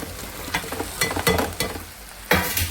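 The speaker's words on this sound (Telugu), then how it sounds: "ఇప్పుడు ఈ బెండకాయ ముక్కలు వేసేసుకుందామండి." Okra pieces dropped into a pan of frying onions, green and dried chilies and curry leaves, with a close sizzle broken by several sharp stirring scrapes and clatters.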